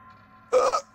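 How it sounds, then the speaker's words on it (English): A single short hiccup, sharp and close, rising abruptly out of a quiet room hum and ending within a fraction of a second. "I hiccup and then I puked"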